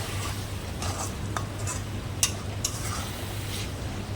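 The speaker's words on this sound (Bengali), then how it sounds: "হলুদ দিয়ে মশলাটাকে ভালো করে নাড়িয়ে চাড়িয়ে একটু কষিয়ে নেব ভালো করে" Spice paste with turmeric being stirred and fried in hot oil: a low steady sizzle under repeated scraping strokes of a utensil against the pan, with a couple of sharper metallic clinks, close and fairly quiet.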